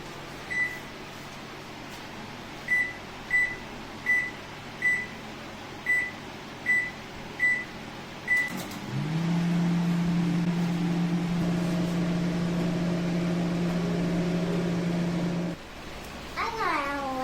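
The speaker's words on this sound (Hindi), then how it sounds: "अब हम ओवन को प्रीहीट कर देते हैं।" A microwave oven being preheated for pizza gives a string of eight short, evenly spaced beeps, then a steady low electrical hum that runs for several seconds and cuts off.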